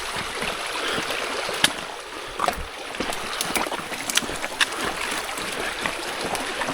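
A forest stream flowing beside a hiking trail, steady close babbling and trickling water with a few sharper splashes and clicks, no voices.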